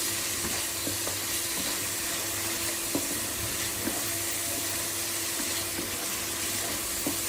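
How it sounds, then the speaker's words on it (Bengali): Beef goes into sizzling spiced oil for red beef bhuna and is stirred, a dense steady hiss with regular spoon knocks against the pan, close and without speech. "মাংসটা দিব, মাংসটা মিলিয়ে দিব।"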